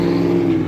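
A loud truck engine roars close by at a campground in Gadsden, Alabama, as a steady low rumble that holds for under a second.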